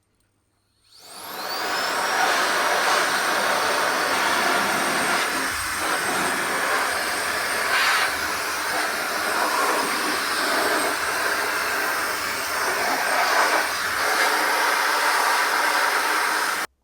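A KICA Jetfan 2 electric air blower starts up with a rising whine and then blows a loud, steady rushing hiss while dust is cleaned out of a PC, close and continuous until it cuts off abruptly at the end.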